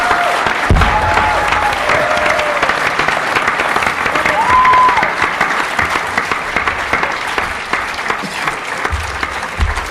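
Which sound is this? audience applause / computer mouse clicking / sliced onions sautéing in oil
audience applause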